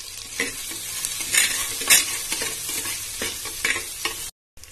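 Small onions sautéing in a clay pot, a steady sizzle broken by repeated close scraping stirs, then a brief cut to silence near the end.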